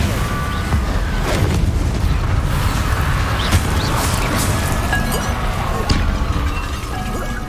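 Bombarda explosion spell in the Hogwarts Legacy video game, loud continuous booming blasts with clinking debris and rumbling, dense and sustained combat noise throughout.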